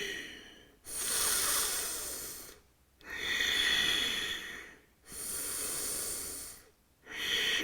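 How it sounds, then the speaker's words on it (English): Slow, deep breaths during a yoga pose in a heart chakra flow class sound as long, breathy hissing inhales and exhales that alternate with brief quiet gaps, close to the listener. "2 more breaths here."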